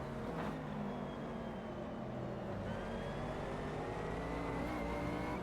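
Race car engines in the sim racing game Automobilista 2, a Mercedes among them, howling steadily through the gears with rising and falling revs, a continuous layered drone without speech.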